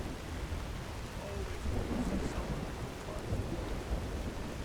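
Steady rain with low rumbling thunder in the video game Skyrim, a continuous wash of downpour under dull distant rolls, with no clear talk over it.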